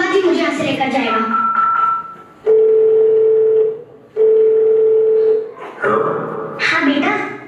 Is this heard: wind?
no